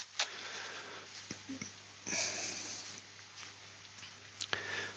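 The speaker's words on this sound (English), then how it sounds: "Blow my nose." A nose is blown into blue roll paper tissue, close up, with a couple of short, forceful bursts of breath and some quieter sniffing between them. The person may be coming down with a cold.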